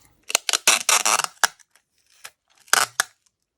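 Tape being pulled and torn while making DIY paper ephemera for a journal: a quick burst of close crackly ripping and sticking sounds, then a short pause and a second brief rip, no talk.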